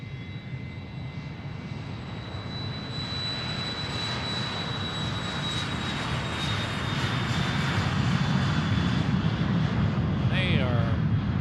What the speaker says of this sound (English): we have an aircraft taking the active here. This is a Citation XLS Plus